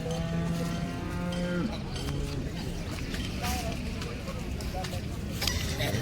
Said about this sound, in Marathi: सर्वात पहिल्यांदा ही गाय पाहू शकताय,